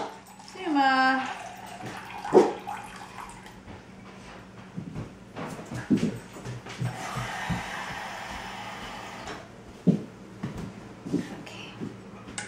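Water poured into a measuring cup for wild yeast bread dough, a short gurgling pour near the start, followed by kitchen clatter, quiet handling noises and a steady low background hum.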